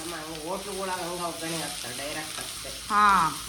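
Okra slices fry in a pan, a steady soft sizzle with occasional stirring scrapes, while someone talks over the cooking throughout.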